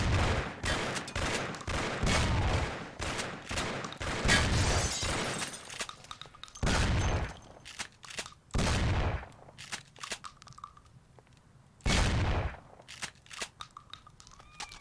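Gunfight in the video game Mafia: a fast burst of loud overlapping shots at the start, then scattered single heavy blasts like shotgun fire with quieter pauses between, close and sharp.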